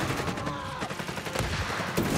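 Dense gunfire from Company of Heroes 3 battle, a loud continuous rattle of overlapping shots and bursts, close and unbroken for a couple of seconds.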